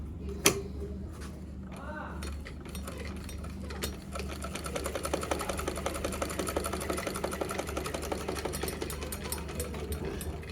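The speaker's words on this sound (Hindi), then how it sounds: "अब हम इसी कपड़े पर देखेंगे चलाकर मशीन" A sewing machine stitches cloth after its needle kept breaking, starting with a few clicks, then running in a fast, even ticking rhythm close up, with a voice speaking under it.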